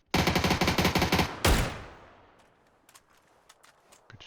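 Automatic gunfire in the PUBG video game: a rapid, loud burst of shots, then one heavier blast that rings out and decays, followed by a few faint scattered clicks.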